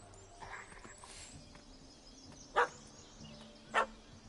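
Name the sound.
dog barking in The Witcher 3 video game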